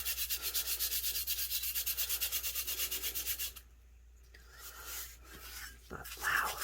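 Rhythmic rubbing strokes, close and faint, work a rub-on transfer onto a tumbler for a few seconds, then give way to softer scattered handling noises and light breathy sounds.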